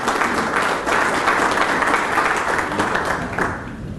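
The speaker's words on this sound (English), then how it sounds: "A hand of applause for this major accomplishment" Steady applause from an audience at a business event in Aruba, dense clapping that fills the whole stretch at an even level before easing slightly at the end.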